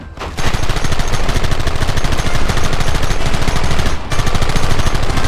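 Dense, rapid gunfire in the video game Red Dead Redemption, a loud, continuous barrage of overlapping shots from multiple guns with a brief lull near the end before the volley resumes.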